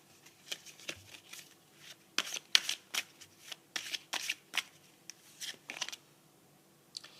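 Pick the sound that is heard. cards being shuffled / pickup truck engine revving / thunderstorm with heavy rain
cards being shuffled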